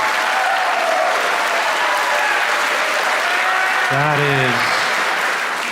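A stand-up comedy audience breaks into loud, sustained applause and cheering, with a voice speaking over the crowd partway through.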